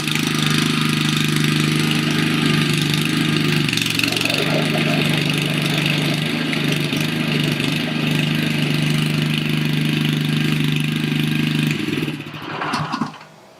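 A Westermann Honda WKB660 weed ripper's petrol engine runs steadily at close range, a loud continuous mid-pitched drone with a brief dip before cutting off near the end.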